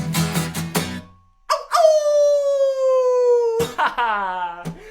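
Voices imitate dog howls, one long drawn-out wavering howl that slowly falls in pitch, with shorter yips and howls around it, loud and close.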